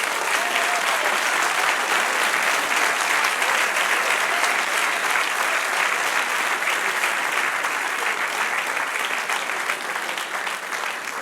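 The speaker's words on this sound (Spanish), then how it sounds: "Dale un aplauso al que vive." A church congregation applauds in a loud, sustained burst of many hands clapping, steady and unbroken from start to finish with no voices on top.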